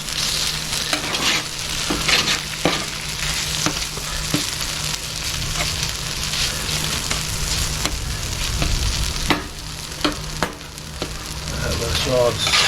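Chicken, beef and fajita vegetables sizzle loudly and steadily in a hot pan, with repeated scraping and clattering as they are stirred and moved around, close up and continuous.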